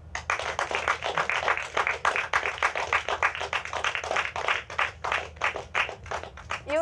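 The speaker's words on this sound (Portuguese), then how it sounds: "Uma salva de palmas para as nossas equipas" Sustained applause from a school quiz-show audience cheering the competing teams, dense and steady clapping throughout with no voices over it.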